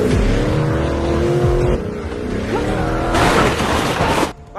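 A car engine roars loudly in a film chase scene, a sustained revving growl with a surge of louder, rougher noise near the end before cutting off abruptly.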